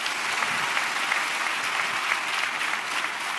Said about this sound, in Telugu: చప్పట్లు కొడితే యేసయ్యకు స్తోత్రాలు.